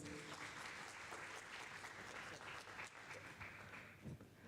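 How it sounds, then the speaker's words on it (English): Audience applause at the opening ceremony of an international mechanical engineering conference, a steady dense wash of clapping that fills the whole span at even strength and tapers slightly near the end. "Let's give an applause."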